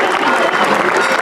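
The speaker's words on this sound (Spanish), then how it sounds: "Fuerte el aplauso." A crowd gives loud, sustained applause at a December feast of the Purísima Concepción in Ixcuintepec, with a thick, even patter of many hands clapping throughout.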